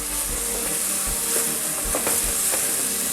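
Tomato paste sizzles and fries with browning pork in a pan for Dominican locrio, a steady crackle with occasional stirring scrapes and no talking.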